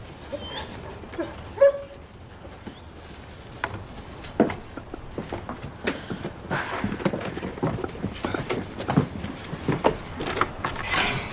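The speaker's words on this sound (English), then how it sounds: "Someone sounds unhappy. It's just a dog." A dog barks and whimpers indoors, short yelps and whines scattered through the stretch amid door and shuffling clatter, at moderate distance.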